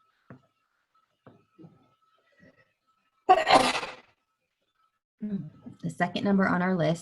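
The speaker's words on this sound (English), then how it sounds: "Can't stop sneezing." A single sharp sneeze bursts out in a quiet room, followed a moment later by a voice speaking.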